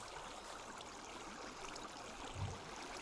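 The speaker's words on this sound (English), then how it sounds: "Waterfall." A Minecraft Pixelmon waterfall gives off a continuous broadband rush of falling water that stays steady and moderately faint throughout, with no voices.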